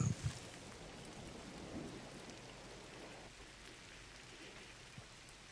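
Steady rainfall with a low rumble of thunder in the video game GRIS, a soft continuous hiss of drops at moderate level running throughout with no voices.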